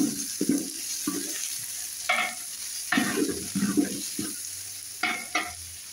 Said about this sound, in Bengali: পেঁয়াজটা বেশ ভালো করে আমি ভাজা ভাজা করে নেব।